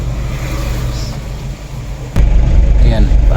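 Mitsubishi L300 engine catching and running, a steady low rumble that jumps noticeably louder about two-thirds through as it fires up, close by, with a voice faintly underneath.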